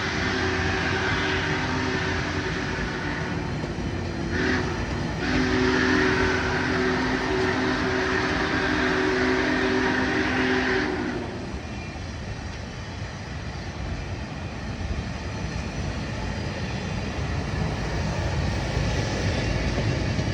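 Union Pacific's Big Boy steam locomotive rolls through Lorraine, Ohio, a loud sustained rumble with a steady whistle-like tone that cuts off midway, leaving a broad roar that fades slowly.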